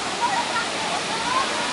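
Kawasan Falls in Cebu pours as a loud, continuous waterfall roar that stays close and steady, with a few faint higher tones above it.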